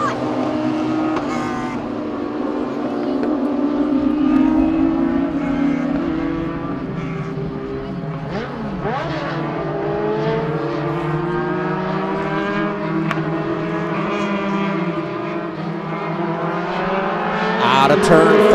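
Race cars bunched bumper to bumper accelerating out of turn 4 on a green flag restart at Birch Run Speedway, a sustained engine roar rising and swelling, with a commentator talking over it.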